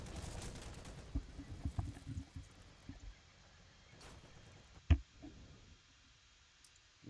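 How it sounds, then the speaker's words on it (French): Gunfire in the online war game Heroes & Generals, heard as scattered clicky shots and short bursts at moderate distance, with one sharper crack standing out against a low rumbling background, faint overall and without speech. "tu te fais tirer dessus. Oula, ça tire, ça tire"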